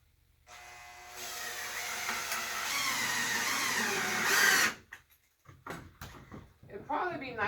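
Power drill driving screws into a workroom wall board, a steady whirring run of several seconds that rises near the end, then stops abruptly, followed by scattered clicks and handling noises.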